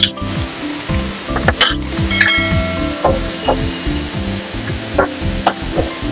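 Chopped onions and slit green chillies fry in a pan with a steady, close sizzle, while a utensil knocks and clinks against the pan in irregular strokes throughout.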